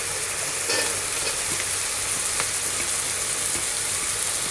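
Onions frying for kabsa give a dense, steady sizzle that fills the whole stretch, with a few faint clicks and scrapes from stirring and no voices.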